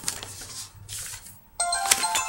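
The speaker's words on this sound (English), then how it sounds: "Oh gee, of course my phone's ringing now." A mobile phone rings with a bright, tonal electronic ringtone that starts partway through, following a stretch of muffled background noise.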